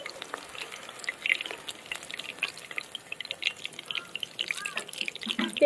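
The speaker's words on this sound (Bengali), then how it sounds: "এই যে এই পকোড়া গুলো কিন্তু একদম ভাজা হয়ে গেল।" Chicken 65 pakoras, made from chicken mince, crackle and sizzle as they fry in hot oil, with a steady bubbling hiss and scattered pops heard up close.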